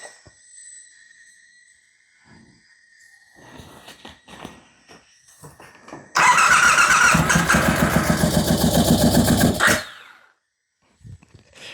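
A turbocharged motorcycle engine with water leaking from its turbo and number 2 cylinder exhaust cranks over in a loud, rhythmic burst of about four seconds, preceded by faint clicks and movement and followed by quiet.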